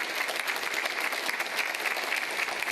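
Audience applause at the 2020 presidential debate, a steady, dense clatter of clapping hands that fills the room evenly for about three seconds with no voices breaking through.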